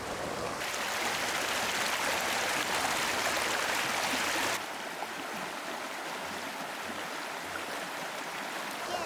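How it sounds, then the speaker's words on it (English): Small waterfalls in Ihlara Valley, Cappadocia, give a steady broadband rush of falling water, louder for the first few seconds and then settling to a softer constant flow, with no voices. "I see some waterfalls."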